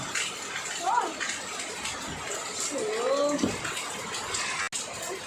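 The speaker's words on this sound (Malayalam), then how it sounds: "അയ്യോ, മഴയാണല്ലോ ഫുള്ള്." Steady hiss of heavy rain pouring down throughout, with brief voices and a faint animal-like cry rising briefly above the downpour.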